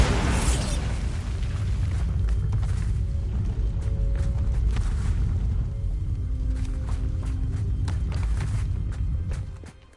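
Bombarda blasting spells going off in the video game Hogwarts Legacy, a dense run of loud bursts and booms over continuous rumbling game action that fades out at the end.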